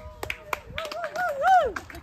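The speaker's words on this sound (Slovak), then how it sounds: "Potlesk." A few scattered handclaps ring out for a competitor at a small skateboarding contest at a new skatepark's opening, mixed with a rising, whistle-like voice and brief chatter, sparse rather than sustained.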